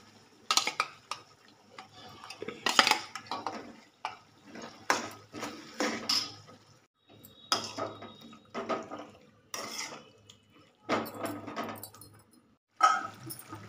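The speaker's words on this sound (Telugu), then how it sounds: "ఇప్పుడు చికెన్ వేసేస్తున్నానండి." Chicken tipped into a hot pan for Ulavacharu chicken curry, then stirred with a utensil: repeated scraping and clinking bursts of metal on pan, close and moderately loud, separated by short pauses, with no talking.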